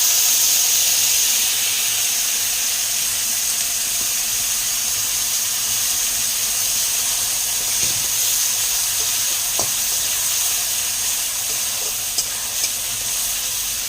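Dried red chillies and spice paste frying in hot oil in a pan, a loud, steady close sizzle and hiss that runs throughout with a few faint clinks.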